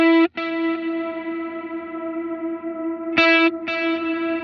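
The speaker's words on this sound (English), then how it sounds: "Now we have an exceptionally long reverb decay." An electric guitar played through a Line 6 Helix Heliosphere delay with a very long reverb decay: a few plucked notes ring out, each leaving a sustained, shimmering tail that hangs on smoothly between attacks, close and alone.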